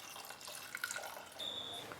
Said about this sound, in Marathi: आता हे बुडतील इतकंच पाणी घालायचं